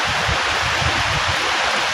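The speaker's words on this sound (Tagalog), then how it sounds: "Sobrang lakas ng ulan." Heavy typhoon rain pours steadily, a dense, loud, unbroken wash of water with no voices.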